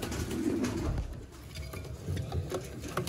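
Pigeons coo steadily in a loft where pigeon pairs are kept, soft throaty calls repeating close by and overlapping across the whole stretch, with faint clinks in the background.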